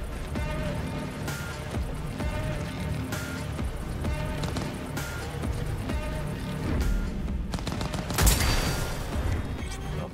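Gunfire in the video game Cyberpunk 2077 comes as repeated sharp shots and short bursts over a busy game soundscape, with one louder blast near the end.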